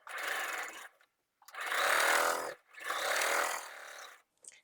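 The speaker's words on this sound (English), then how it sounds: "So now I'm going to sew the length of this piece." Sewing machine stitching the length of a quilt block, three loud close bursts of steady whirring separated by short pauses, with no voice.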